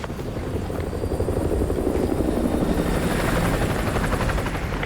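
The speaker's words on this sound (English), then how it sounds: "Enemy helo patrolling the perimeter." An enemy helicopter patrolling a perimeter in Call of Duty: Modern Warfare 2 Remastered, its rotor thumping in a fast, steady chop that stays loud and close without letting up.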